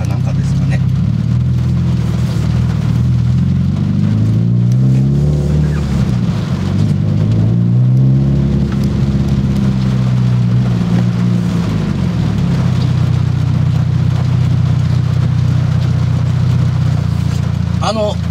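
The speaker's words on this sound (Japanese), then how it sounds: "一番比較にしてほしいのはこの雨音なんですよ" Rain drums steadily on a Subaru WRX STI VAB while it is driven in wet weather, heard from inside the cabin beneath a continuous low engine and road drone for the whole stretch.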